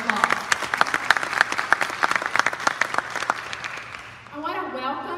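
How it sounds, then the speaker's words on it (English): Dense applause from a crowd at a graduation ceremony in Henderson, many hands clapping steadily before fading out as a voice begins speaking. "So I think that deserves a round of applause."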